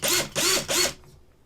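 A small power drill boring pin holes into a resin Predator model kit: three short, even high-pitched whirring bursts close by, each ending abruptly, followed by a brief quiet tail.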